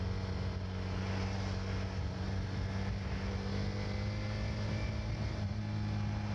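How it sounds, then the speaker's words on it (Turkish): A TVS Raider 125 motorcycle, an Indian 125 cc bike, drones with a steady, deep exhaust note. The low hum holds evenly and continuously throughout, close and without any talking. "Egzozu beğen. Böyle tok. Bağırmıyor ama tok."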